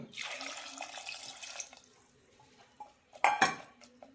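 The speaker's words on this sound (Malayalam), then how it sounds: "കഷ്ണങ്ങൾ മുങ്ങത്തക്ക വിധം വെള്ളം ഒഴിച്ചു കൊടുക്കാം" Water poured from a vessel over cut tender jackfruit pieces in a cooking pot: a splashing pour for about a second and a half, a quiet pause, then a brief louder splash and clatter.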